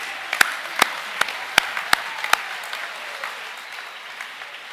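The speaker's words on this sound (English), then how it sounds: "Give Hayes a round of applause." Sparse, distinct handclaps from a small group at a school junior academic awards assembly, sharp individual claps spaced about every half second that thin out and stop, leaving quiet room tone.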